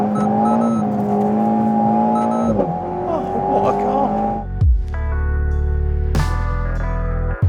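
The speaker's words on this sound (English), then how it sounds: "you probably hear the cars go past in the background" Engines roar past one after another, a steady rush of passing cars with rising and falling pitch, loud and close, while someone talks over them.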